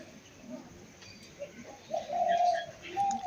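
Domestic white pigeons, one in a cage and one standing beside it, give soft low cooing phrases that swell louder toward the end, heard close against a quiet background.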